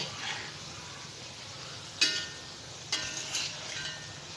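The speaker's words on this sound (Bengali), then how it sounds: "আমার পাকোড়াগুলো ভাজা হয়ে গেছে" Steady sizzling of pakoras frying in hot oil, with a couple of sharp metallic clinks from a utensil.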